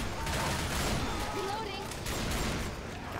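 Steady, dense automatic gunfire fills a short moment in a Left 4 Dead 2 No Mercy match on Xbox One, a continuous loud crackle with voices talking over it.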